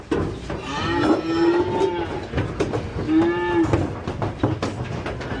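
Cows being loaded onto a double-decked cattle truck during ranch sorting and hauling give two long, loud moos over clattering hooves and knocks against the trailer, close by.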